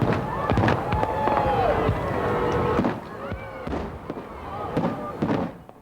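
New Year's Eve fireworks over Milwaukee, a dense run of sharp bangs and crackling bursts at varying distances, with crowd noise and a whistling rise in between.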